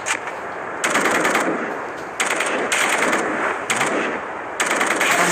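Vandal rifle fire in the video game Hyper Front comes in loud, sustained automatic bursts, three or four long strings of rapid shots separated by brief pauses, close and dominant with no talking.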